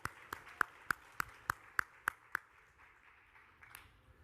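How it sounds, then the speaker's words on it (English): At a talk on building and monetizing Facebook groups, a few sharp claps ring out at an even pace, about nine distinct strikes over two and a half seconds. Quieter room sound follows. "Give him a round of applause"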